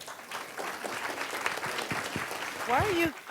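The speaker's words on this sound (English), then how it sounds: "Why are you're clapping and you don't even know if you like me yet" An audience welcoming a speaker on stage gives moderately loud, continuous applause, the clapping going on while a voice rises briefly near the end.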